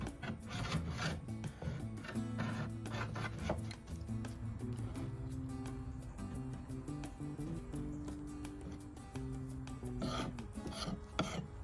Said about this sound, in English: in a minute I'll be going in with a steel wool pad, and this gets it off a lot easier when it comes to curves.